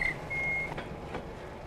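Reversing beeps from a 4-ton truck, a few sharp high tones sounding at moderate distance over a quiet outdoor hum.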